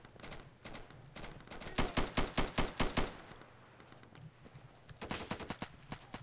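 Rapid gunfire from a weapon in the game Insurgency rattles out in quick bursts, a short spaced few shots, then a dense run of repeated cracks, a pause, and another burst near the end.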